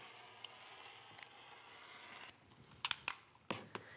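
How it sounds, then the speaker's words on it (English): Scissors cutting fabric for an A-line skirt with suede cut-outs, a few sharp close snips and crunches near the end after quieter room noise. "I'm just going to take the scissors or rotary cutter, whatever you have, cut down this line."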